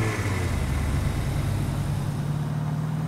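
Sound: vehicle engine in the video game Rules of Survival

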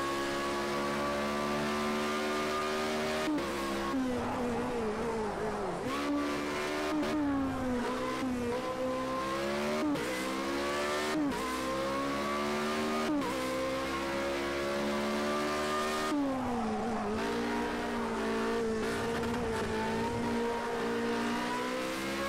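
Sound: race car driving in video game Project Cars 2

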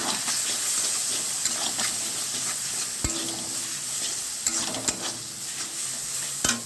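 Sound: stirring roasted eggplant in a wok

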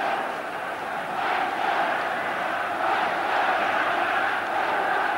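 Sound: football crowd at Wembley getting louder

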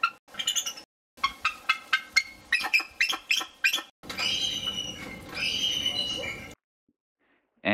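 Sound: bald eagle call, weak high-pitched chirp

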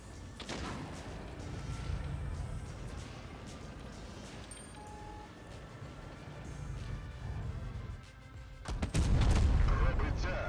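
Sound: WZ-114 tank cannon firing in video game WoT Blitz

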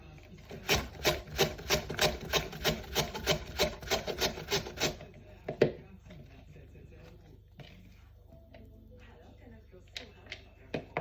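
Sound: grating beetroot and carrot on a Korean carrot grater

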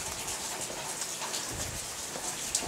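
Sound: rain falling

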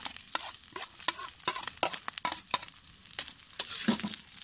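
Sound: onion sautéing in lamb fat

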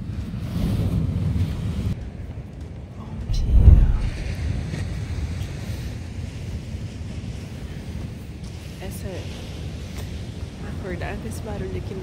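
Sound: ocean waves at the beach at dawn

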